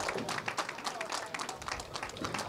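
Crowd applauding and cheering at the close of a women's title match, a burst of scattered clapping with a few voices mixed in, moderately loud and steady for the whole moment.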